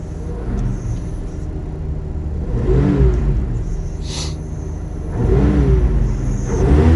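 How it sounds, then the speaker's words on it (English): An LS-swapped V8 engine in a Ford Futura idles with a deep rumble, then revs up several times in rising surges, loud and close. "It was definitely revving harder."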